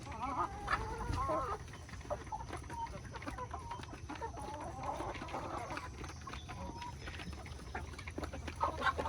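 Backyard chickens clucking and squawking in a coop at feeding time, a busy, continuous chatter of several birds nearby, with scattered louder calls over a low background.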